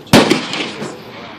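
A Ruger American Rimfire .22LR rifle fires once outdoors, a sharp close crack followed by a brief echo and a smaller second pop, with faint voices around the range.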